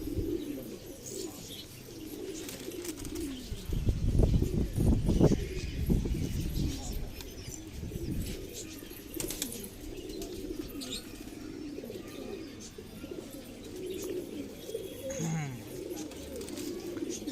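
High flyer pigeons coo softly in a steady low murmur throughout, with occasional chirps and rustling, while people talk nearby over the birds.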